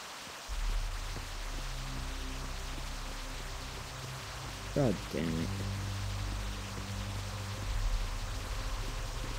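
Rain falls in a Roblox horror game as a soft, steady hiss of drops beneath a low game drone, fairly quiet throughout, with a man briefly muttering over it.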